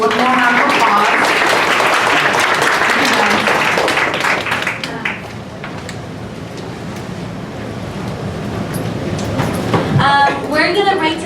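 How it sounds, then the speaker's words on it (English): Audience at a tech panel session claps for the panelists, a broad wash of applause that dips in the middle and swells again toward the end. "Let's give our panelists one more round of applause."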